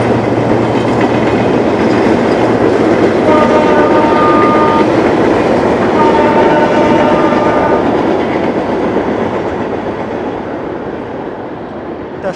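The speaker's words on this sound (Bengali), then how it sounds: "এটা যে ট্রেনটা এখান থেকে আসতেছে সেটা হচ্ছে ঢাকা থেকে, মেবি, হ্যাঁ ঢাকা থেকে আসতেছে, এটা নীলসাগর এক্সপ্রেস" Nilsagar Express passenger train from Dhaka passing close and loud, with a steady roar of wheels and cars, two long horn blasts midway, and the rumble slowly fading as it moves off.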